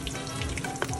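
Browned tofu sizzles in a frying pan as egg is added, a brief, crackly frying hiss with small pops and no talk.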